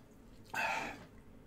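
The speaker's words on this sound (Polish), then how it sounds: "Ale najpierw przepłuczę gardło." Throat being rinsed by gargling with spring water, a single burst of bubbling, hissy gurgle lasting about half a second, close and moderately loud, with quiet room tone before and after.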